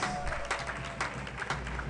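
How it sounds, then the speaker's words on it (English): A convocation ceremony audience gives a round of applause, a dense patter of clapping from a crowd at moderate distance, fairly quiet and sustained for a couple of seconds. "Please give them a round of applause."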